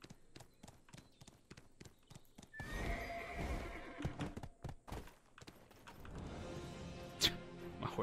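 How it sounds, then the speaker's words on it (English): Horse in the online RPG Black Desert Online: rapid clip-clopping hooves at first, then a loud neigh and whinny, followed by thumping, thudding movement and hoofbeats, close and fairly loud. "My horse got stuck in a tree."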